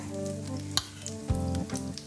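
Potato pancakes sizzle steadily in a hot pan, close by, with a few sharp clinks and a low tonal hum underneath.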